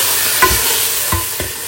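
Chicken pieces sizzle loudly in hot oil with garlic and ginger, a steady close frying hiss broken by a few soft clinks of a stirring spoon against the pan.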